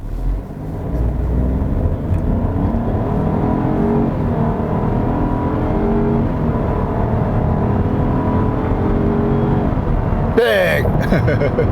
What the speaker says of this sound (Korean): 자, 그럼 급가속도 한번 해보도록 하겠습니다.